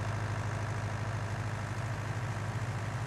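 Tractor engine idling steadily in a farming simulator, a continuous low diesel drone with a heavy bass hum and even texture throughout, no voices present.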